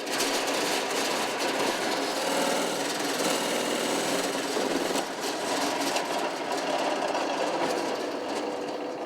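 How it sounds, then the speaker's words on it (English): A drill bores a 3-inch hole through wood for a dressing mirror, a loud continuous grinding, rattling roar with constant coarse texture that dips briefly midway and then carries on. "We're going to run the first hole, the 3-inch hole"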